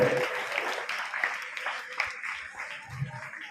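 A crowd at a school Republic Day celebration breaks into steady, dense clapping that fills the space, with faint voices mixed into the applause.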